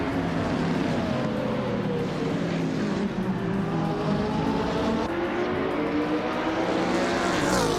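Race cars roaring around the Botany Orange Short circuit just after the start, a 2016 BMW M6 GT3 leading the pack; dense, continuous engine noise at steady loudness throughout with rising and falling pitch sweeps as cars pass.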